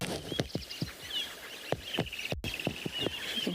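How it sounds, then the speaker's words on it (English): Morning birdsong at sunrise in the African bush: several birds calling and chirping in quick, irregular bursts with sharp ticking notes, fairly close and clear over a quiet background. "There are definitely a lot of birds that are out and about this morning."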